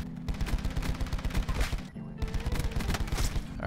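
Tigershark LMG machine gun in a video game fires long, rapid sustained bursts, loud and close, with a short gap near the middle before the fire resumes.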